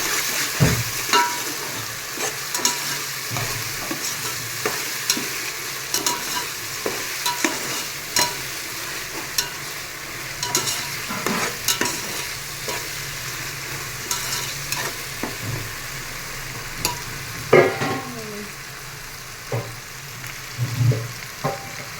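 Masala for Palnadu-style desi chicken biryani fries in a pan under a constant soft sizzle, while a spoon scrapes and stirs in repeated close taps and scrapes.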